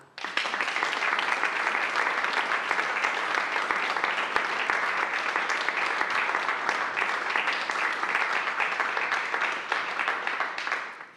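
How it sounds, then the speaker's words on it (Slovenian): Audience applause at the Cankar Award ceremony, a Slovenian literary prize event: long, dense, even clapping from a large hall crowd, sustained for about eleven seconds before tapering off. "prosim še za en aplavz za vse, kot tudi žiriji za opravljeno delo"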